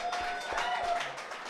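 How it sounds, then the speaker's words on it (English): An audience at a small live stage event claps in a brief, moderately loud round of applause, with a few faint voices and whoops mixed into the crowd. "big round of applause"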